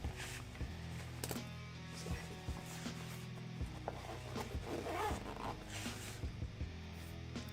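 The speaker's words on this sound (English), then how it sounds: "Zip that shut over there." A clothing zipper is pulled shut in a few quick, close rasping strokes, with faint rustling of fabric around it and no talking.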